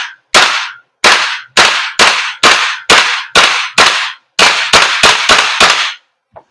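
A WE M4 CQB gas blowback airsoft gun dry firing: a string of about a dozen loud, sharp mechanical clacks. Some are evenly spaced and a quick burst comes near the end, each one sounding close and dry.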